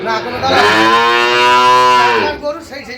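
Sahiwal cattle at a bull calf market in Faridpur give one long, loud moo that fills most of the moment, ending in some brief background voices.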